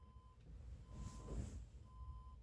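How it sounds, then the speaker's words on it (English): A vehicle backing up somewhere outside sounds faint, evenly spaced reversing beeps, three of them over a low background rumble, with no voices. "or is that a vehicle backing up outside?"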